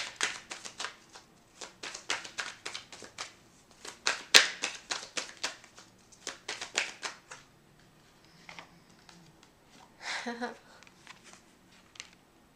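Tarot cards being shuffled and a clarification card drawn, heard as a quick run of crisp riffling flicks and taps up close, then softer sliding and card handling toward the end, with a voice speaking over parts of it.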